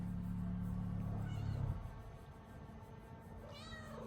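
A cat meows twice in a house under renovation, one call early on and another near the end, both heard over a loud steady mechanical drone that fades partway through.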